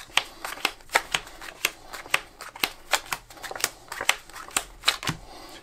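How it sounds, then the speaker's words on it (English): Playing cards dealt from the bottom of a deck into four hands: a steady run of crisp, close card snaps and flicks, roughly two to three per second, with no talking. "And that is bottom dealing"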